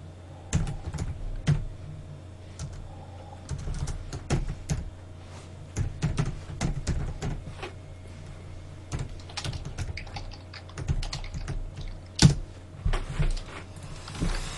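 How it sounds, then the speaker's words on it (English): Rapid, uneven clatter of keys being typed on a computer keyboard, close and steady with brief pauses and a few sharper strokes, no voices. "What are you typing?"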